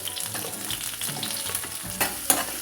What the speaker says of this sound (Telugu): ఆనియన్స్ కొంచెము లైట్ గోల్డ్ కలర్ వచ్చేంత వరకు కొంచెం వేగనిద్దాము